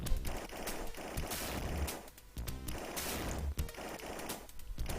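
Rapid gunfire from the Cyber Police ESWAT arcade game as enemies are shot down: loud, dense volleys of automatic shots that rattle almost without pause, with two brief dips between bursts.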